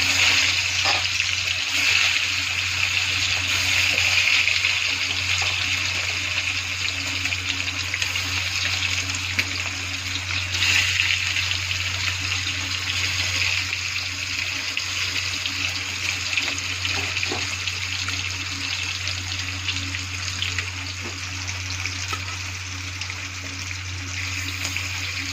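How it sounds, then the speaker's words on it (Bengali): An egg frying in hot oil in a pan, a continuous even sizzle with a low steady hum beneath it, heard close with no talk. "দেখো ডিমটা ভাজা হয়ে গেছে, এখন আমি নামিয়ে নেব।"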